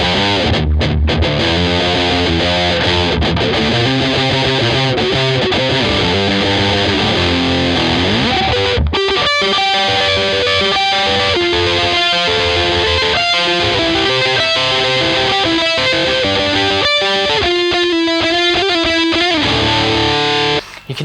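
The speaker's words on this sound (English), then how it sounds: "For me, that's my prime distortion, and that's the solo done." A heavily distorted electric guitar plays a sustained, driving solo line, loud and thick with gritty overdrive throughout, no voices.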